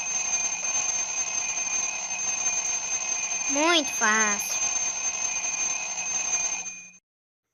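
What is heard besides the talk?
alarm clock ringing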